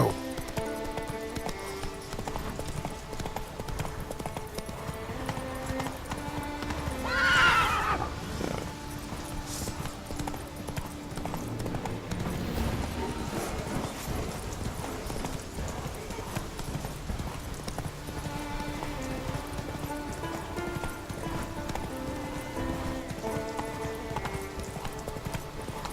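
Roach, a horse in The Witcher 3, gallops with rapid rhythmic clip-clop hoofbeats over a game music bed, briefly neighing, while a person talks over it now and then.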